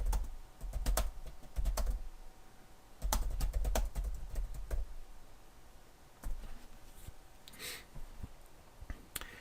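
Bursts of rapid typing on a computer keyboard, with clustered close-up keystrokes separated by brief pauses and no speech.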